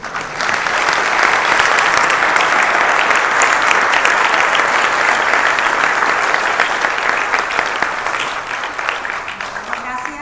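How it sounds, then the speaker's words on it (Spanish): At a panel event, a large audience breaks into sustained applause, a thick, loud, continuous clatter of hands that holds steady for several seconds before gradually easing off toward the end. "Seguimos con un aplauso."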